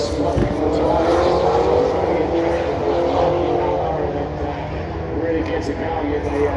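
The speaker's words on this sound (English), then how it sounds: "Smoking the tyres." A 1968 Camaro with a 540 engine smokes its tyres at a street drag meet, a loud sustained engine roar with tyre noise under an announcer's voice.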